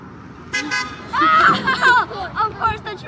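Passing truck honking its horn at roadside onlookers, a couple of short toots followed by longer wavering blasts over traffic noise, with people's voices mixed in.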